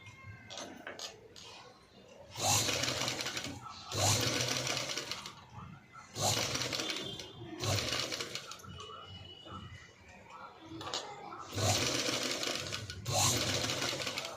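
A sewing machine stitches piping onto a boat neck in several loud, rapid bursts of clattering, with short pauses between runs and faint voice and background sounds in the gaps.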